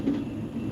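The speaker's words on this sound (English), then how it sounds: "And here comes the rear. So this is the end of our train." Freight stack train rolling past a railroad crossing with a steady, close rumble of wheels and railcars, the end of the train going by.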